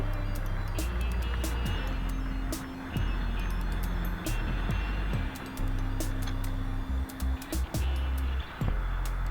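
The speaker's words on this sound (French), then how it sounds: "j'entends une voiture arriver à fond de balle" A car approaches fast from behind a cyclist riding at 20 km/h on a city street toward a red light, its engine a steady rumble under road and wind noise, with a few brief sharp ticks.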